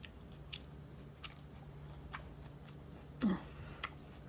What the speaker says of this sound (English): Can you guys hear the crunch?